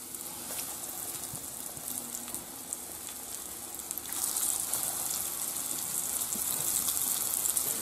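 Salmon frying on a griddle, a steady crackling sizzle that swells louder partway through.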